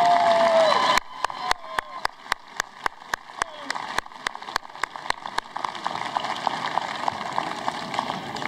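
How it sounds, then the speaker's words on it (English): Crowd applause at the 2019 Hempfield Area High School graduation ceremony: a voice at the start, then sharp, evenly spaced claps close by, swelling into a dense, steady wash of clapping from the audience. "A round of applause, please."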